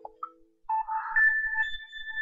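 A mobile phone ringtone plays nearby, a short electronic melody of steady, bright tones following a couple of faint blips, with no one speaking.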